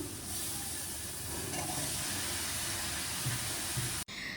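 Bottle gourd pieces dropped into sizzling spice masala in a hot pan set off a loud, steady, close frying hiss that holds evenly for about four seconds, then cuts off abruptly, with no voices.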